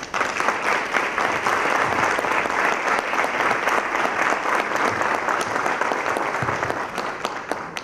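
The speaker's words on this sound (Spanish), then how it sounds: "le pido un aplauso para ella" Warm audience applause welcoming a doctor to the stage at a talk, even continuous clapping throughout with only faint murmurs underneath.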